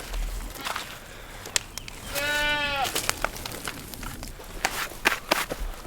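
A goat bleats once in a wavering, tremulous call on a farm, set among scattered footsteps, rustling and handling noises nearby.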